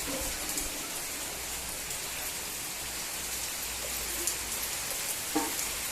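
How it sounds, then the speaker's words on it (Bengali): Rain falling outside after a hot, cloudy spell, heard as a steady, even patter with a few louder drops standing out and no talk. "দেখো কি বৃষ্টি হচ্ছে"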